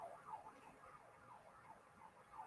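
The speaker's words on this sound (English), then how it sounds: "you can hear the sirens going in the background" Wailing sirens sweep up and down in the distance in New Zealand, faint and continuous, rising and falling in a steady repeating pattern.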